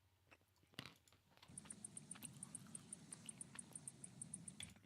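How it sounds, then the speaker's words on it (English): A cricket chirping sound effect plays in a quiet livestream: a steady, regular run of high, rapid chirps that keeps going after a soft knock, over faint crunchy rustling, with no voices. "Let's get the crickets."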